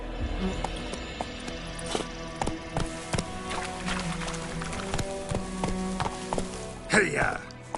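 A horse gallops in The Witcher 3, with rapid, evenly spaced hoofbeats running steadily under a voice.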